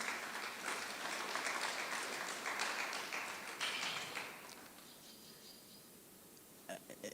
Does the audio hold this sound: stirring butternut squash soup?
no